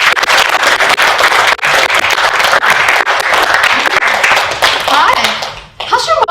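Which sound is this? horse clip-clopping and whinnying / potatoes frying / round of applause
round of applause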